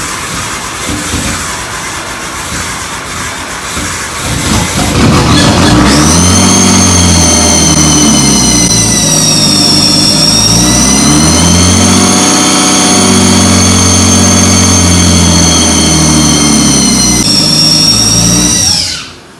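A car engine cranks over and catches after the fuel pump is primed, then runs loud and steady with a droning hum whose pitch rises and falls slightly before it suddenly shuts off.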